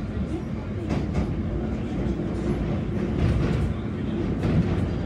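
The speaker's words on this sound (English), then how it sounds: "This train is about to depart." London Underground Northern Line train departing Kennington: a steady low rumble of wheels and motors with faint rhythmic clatter, continuous and close, as heard from inside the carriage.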